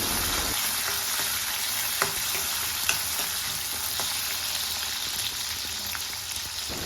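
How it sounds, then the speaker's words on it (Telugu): Chopped onion sizzles steadily in hot oil in a pan while cooking a brinjal and kabuli chana curry, a dense, continuous crackle with a couple of sharper pops and no voices. "ముందుగా కట్ చేసి పెట్టుకున్న ఆనియన్ని యాడ్ చేసుకొని ఫ్రై చేసుకోవాలి."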